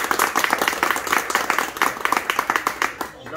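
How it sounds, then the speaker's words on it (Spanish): Guests at a birthday party clap for an honoree, a lively patter of individual claps from a small group with voices talking over it, fading out right at the end. "les quisiera que le diéramos un aplauso para él"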